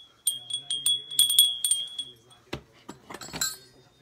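Small bells jingle in quick, bright bursts, followed by a few softer rattles and clinks close by.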